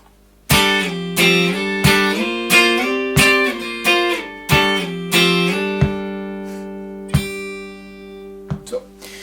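Plucked guitar playing the intro riff of a song, clear single notes ringing one after another at a steady pace, then slowing to a few sustained final notes.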